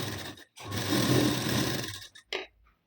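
A sewing machine runs one steady burst of stitching along a half-inch seam on a double katori blouse lining cross strip, stops, then gives a short second burst; close and alone.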